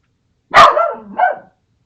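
A dog barks close by in a sharp two-part outburst, a loud first bark sliding into a lower growly tail and then a second shorter bark, with silence before and after.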